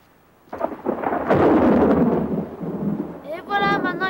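Loud rolling thunder rumbles and builds for several seconds, then fades slightly before a short bright tonal burst near the end; no rain is clearly audible yet.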